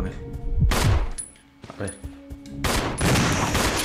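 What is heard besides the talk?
shotgun fired at zombie in Resident Evil 0 video game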